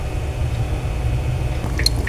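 Pork ribs boil in a pot for nilaga, a low steady bubbling rumble heard up close, with a few small wet pops and drips near the end.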